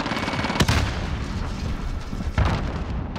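Call of Duty: Modern Warfare combat: a sharp, loud blast with booming low end, then a second heavy impact about two seconds later, over a constant clatter of distant gunfire.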